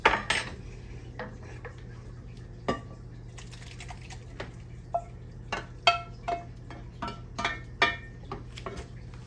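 Utensils scoop potato salad into a casserole dish, giving intermittent close clinks and taps of metal on dish against a quiet background.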